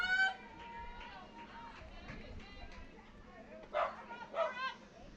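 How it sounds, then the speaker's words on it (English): A dog yips and barks a few times at a distance near the press tower at a Florida Vibe vs Florida Breeze baseball game, mixed with crowd and stadium noise. "Oh, a dog is here."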